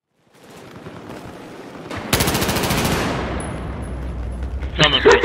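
Automatic gunfire from a Battlefield 4 firefight, with a loud close burst of rapid machine-gun fire breaking over continuous distant shooting and battle noise, followed by more crackling shots.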